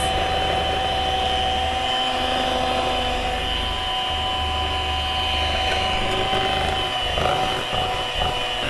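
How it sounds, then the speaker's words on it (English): An electric hand mixer beats rum cake batter in a home kitchen, a steady close whirring motor hum running unbroken throughout, with no voices over it. "Once it's blended, you can turn it up and mix for 2 minutes."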